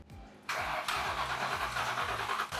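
A Ford Mustang GT with an engine problem cranks briefly, then catches and starts, settling into a loud, rough, steady idle nearby.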